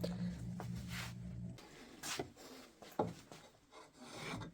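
Spokeshave fitted with a new sole taking wispy wood shavings, a few soft rasping strokes close by, quiet and intermittent.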